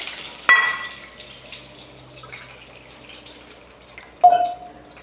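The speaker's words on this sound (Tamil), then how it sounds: "இப்போ இதுக்கு 3 கப்பு தண்ணி ஊற்றுவோம்." Water splashes and pours into a pan in two short bursts while cups of water are measured in for making kesari, with quiet dripping and kitchen clatter in between.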